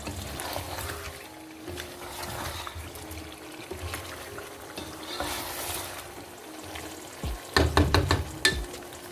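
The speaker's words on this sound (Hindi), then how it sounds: "आलू डालने के बाद इसको हम 5 मिनट तक और भूनेंगे अच्छे से।" Potatoes being fried with meat for aloo gosht, a steady low sizzle with stirring scrapes throughout and a burst of louder clattering stirring near the end.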